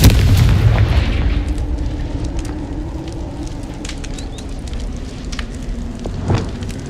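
A fiery blast from the Confringo explosion spell cast in Hogwarts Legacy booms loudly at the start, then fades into a sustained rumbling roar, with a smaller burst near the end.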